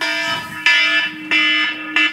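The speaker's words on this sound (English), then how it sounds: "That's a cell phone for those of you who are listening and wondering if we're in some sort of trouble." A cell phone alarm sounds in a room, three loud electronic beeping bursts at a steady rhythm of roughly one every two-thirds of a second, close and alone with no talking.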